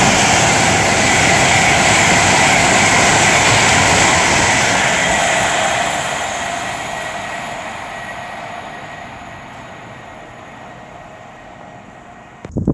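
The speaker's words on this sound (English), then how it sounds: "now approaching will be 39135 for Avanti West Coast, passing through nearly 10 minutes late" Avanti West Coast Class 390 electric train passing through a station at speed: a loud, close roar of wheels and rushing air that slowly fades over several seconds, ending with a brief clatter.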